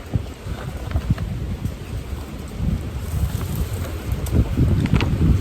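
Gusty wind in the woods gradually building in strength, a broad rushing roar that swells and grows louder toward the end, with scattered crackles.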